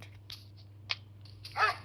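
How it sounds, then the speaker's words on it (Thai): Dog in a Roblox obby game, a few short yips and a louder bark-like burst at the end, brief and fairly faint over a low hum. "อู้มีสุนัขด้วย"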